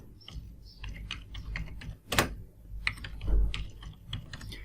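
Computer keyboard typing while entering a search for a plumbing service, a quick run of close, crisp key taps with one louder burst of strokes midway, no voices.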